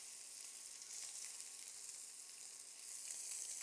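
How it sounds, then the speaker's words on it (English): Seasoned scallops sear in a hot oiled pan, a faint, steady, crackling sizzle heard alone and close. "I'm going to put them seasoning side down in the pan."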